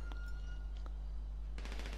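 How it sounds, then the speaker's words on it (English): Gunfire bursts out in GTA Online: a few sharp reports spaced apart, then a quick rattling cluster of shots near the end, moderately loud over a constant low hum. "Don't try and shoot me with a shotgun"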